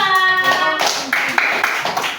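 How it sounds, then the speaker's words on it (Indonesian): A school class claps for a group in a classroom: a short, dense burst of hand clapping, with a few sharper taps trailing off near the end. "kasih tepuk tangan untuk kelompok 2"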